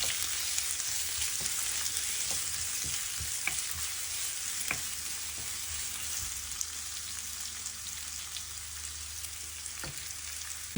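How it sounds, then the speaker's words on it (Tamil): A large onion sizzles and fries in a pan with fenugreek seeds, a steady crackling hiss punctuated by occasional sharp pops and stirring clicks, close and continuous with no talking. "கூட ஒரு பெரிய வெங்காயம் அதையும் போட்டு வதக்குவோம்."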